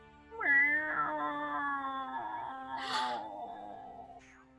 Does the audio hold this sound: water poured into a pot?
no